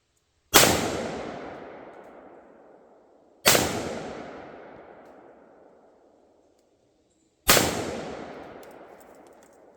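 A Century Arms VSKA AK-47 rifle fires three loud single shots at a target, evenly spaced about three seconds apart. Each sharp crack trails off into a long, rolling echo.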